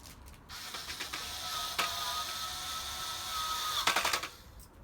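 A drill drives self-tapping screws without pilot holes while a Sportscreen is installed, giving a sustained whirring buzz with rattling, ratchet-like clicks and a short rapid burst near the end, close and fairly steady.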